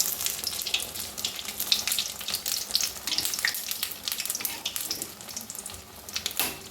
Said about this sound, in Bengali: তেল দিয়েছি পরিমাণ মতো, 2-3টে করেই ভাজতে হবে।